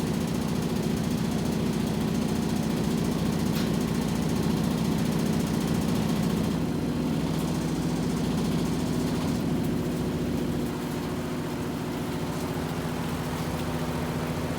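A 2011 Whirlpool Cabrio Platinum washing machine spins with a steady low drone and mechanical whir, holding level and close throughout, without reaching its full spin speed.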